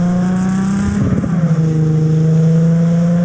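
A car engine in the Cyberpunk 2077 video game drones loud and close as a steady tonal hum that dips slightly in pitch, with a short rumbling flutter near the one-second mark.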